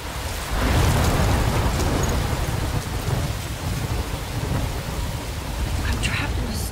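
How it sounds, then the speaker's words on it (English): Heavy thunderstorm in the Life Is Strange video game: dense, steady rain pours down while deep thunder rumbles continuously underneath, loud and close throughout. "I'm trapped in a storm?"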